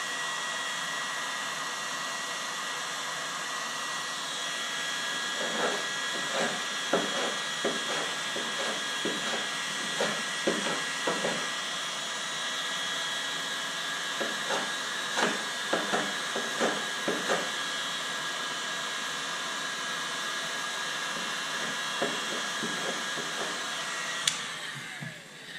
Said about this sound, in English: You don't want to burn the wood, and this heat gun is certainly capable of doing that.